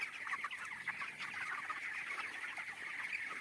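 Broiler chickens on a poultry farm in Assam cluck and chatter constantly, a dense overlapping flock heard from close range without any talk.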